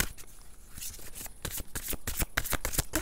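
Oracle cards are shuffled by hand, giving a quick run of close, crisp riffling flutters that grow denser toward the end.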